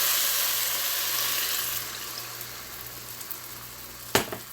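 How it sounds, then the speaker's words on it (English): Water is poured into a pot of curry turkey with the meat sticking at the bottom, a steady rushing pour that fades into a soft simmering fizz with a sharp clink near the end. "I'm going to go in with the water"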